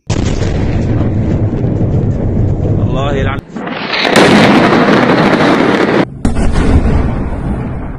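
Loud, continuous rumbling blasts and booming roars from air strikes in Iran fill the whole recording, with brief dropouts and a voice faintly mixed in.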